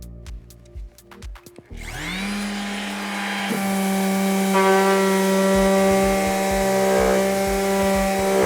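A Festool detail sander sanding wood whirs steadily after a few clicks and a startup, its motor humming loudly with a slight rise in pitch.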